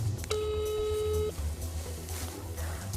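A telephone line tone sounds while a call is placed to a mobile phone: one steady electronic tone lasting about a second, followed by quieter line noise, with faint background murmur.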